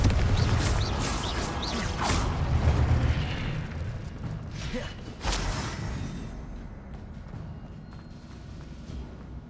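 Confringo blasting spell in Hogwarts Legacy, a loud explosive boom with whooshing bursts early on, then a second sharp blast midway that fades into a rumbling game background.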